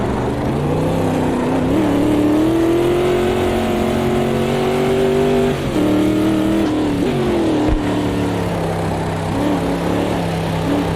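Race car engine in Automobilista 2 at Monza in the rain, running loud and steady with rising revving, a sharp drop and downshift near the middle, then climbing again, with no talk over it.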